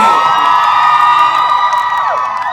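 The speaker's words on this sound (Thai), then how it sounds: "ขอเสียงปรบมือกับนุนนิวด้วย" A crowd of fans at a BVLGARI Light Up event cheers and screams loudly for NuNew, many high voices blending into a dense, sustained roar that fades slightly toward the end.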